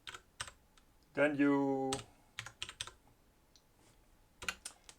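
Keystrokes clatter in scattered quick bursts on a computer keyboard while coding in Python in an editor, close and soft, with brief speech and a short tonal sound partway through.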